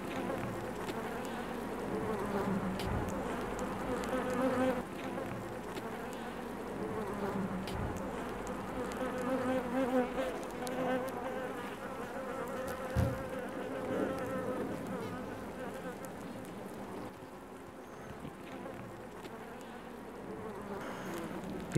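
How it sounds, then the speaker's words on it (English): Bees buzz steadily around a hive in the rain, a continuous close drone with individual insects passing near and fading, with no voices. "Another bee coming along to attend,"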